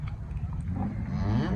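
A Holstein Friesian cow lows once at a busy cattle market in Loni, a low drawn-out moo close by over a bed of crowd noise.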